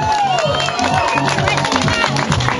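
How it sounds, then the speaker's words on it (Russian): Loud crowd noise with clapping and cheering, a dense continuous burst from a group nearby. "Аплодисменты"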